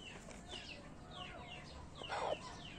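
A Jagiri bloodline rooster from Karachi makes a series of short clucks and chirping calls close by, with a louder burst of squawking near the end against a quiet background.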